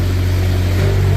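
A 2024 Manitou TMM45 forklift tilting with its engine running: a loud, close, steady low engine drone with a strong hum that holds unchanged for just over a second.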